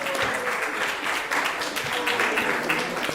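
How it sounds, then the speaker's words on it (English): A crowd applauds at a Vyasa Puja festival celebration, with dense continuous clapping throughout and a faint voice drifting underneath. "So please give him a big round of applause"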